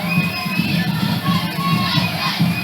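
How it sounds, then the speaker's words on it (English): A high school football stadium crowd, a loud, dense roar of many voices with shouting and cheering swelling and surging throughout, heard close and continuous. "That's the late arriving crowd you talked about."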